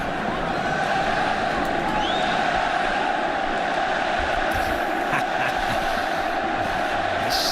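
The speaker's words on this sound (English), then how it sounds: "Still cheering for somebody called Messi." Barcelona fans cheering in a stadium at the 2025 Spanish Super Cup final against Real Madrid, a continuous dense crowd roar with chanting swelling through, heard from a distance with no talk.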